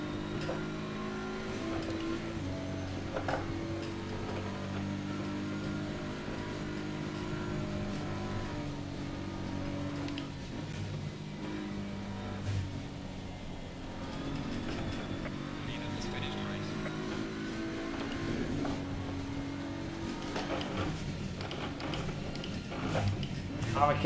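Race car engine in Assetto Corsa Competizione on a circuit in bad conditions, a sustained droning roar with shifting pitch as the car accelerates, heard steadily under occasional commentary.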